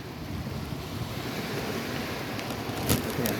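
Surf washing over a sandbar at Fort Myers Beach, Florida, a steady broadband wash of water and wind noise with a slightly louder surge near the end.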